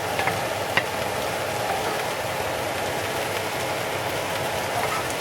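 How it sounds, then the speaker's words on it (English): Potatoes and meat frying in a pan give a steady, even sizzle with faint crackles, close and continuous, no talking. "So you hear that sizzling?"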